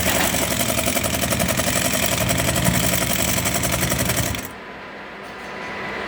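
An industrial sewing machine driven by an EFKA AB600 servo motor runs at roughly 600 to 700 RPM, stitching a box-and-cross pattern through three layers with size 207 thread. A loud, steady mechanical whirr with rapid rhythmic ticking stops abruptly near the end.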